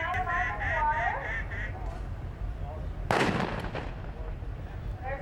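At a retriever field trial, ducks quack in bursts, then a single sharp gunshot cracks out mid-way as a bird is shot, followed by quieter outdoor ambience and faint voices.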